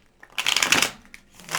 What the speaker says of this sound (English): I'm going to do shuffling until it tells me to stop